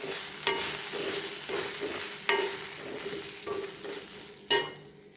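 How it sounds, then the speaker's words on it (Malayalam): Spice powders (coriander, turmeric, garam masala) are stirred into sautéed onions for a mushroom masala curry, with a continuous soft sizzle and periodic scraping strokes of a spoon against the pan, and a few sharper clinks. "പൊടികളെല്ലാം ചേർത്ത് നന്നായി ഇളക്കി കൊടുക്കുക."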